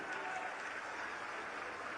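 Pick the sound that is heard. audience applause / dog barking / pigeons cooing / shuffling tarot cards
audience applause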